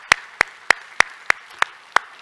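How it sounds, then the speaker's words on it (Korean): Slow, isolated claps in a Korean church after a prayer, seven sharp evenly spaced hand claps close by with quiet between them rather than a full crowd. "우리 하나님께 영광의 박수합시다."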